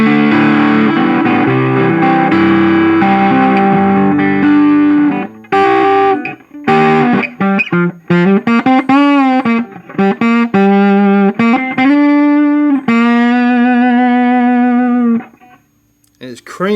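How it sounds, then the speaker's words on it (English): An electric guitar plays through a modified 5E3 '59 tweed tube amp with a post-phase master volume, giving a thick, creamy distortion: sustained chords first, then a run of sharp, close picked notes that ring out. "and it's creamy distortion"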